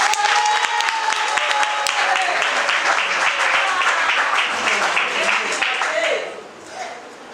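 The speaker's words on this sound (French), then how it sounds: "On applaudit." Wedding guests break into loud, dense applause at the ceremony, the clapping sustained close by with cheering voices mixed in before it drops away sharply near the end.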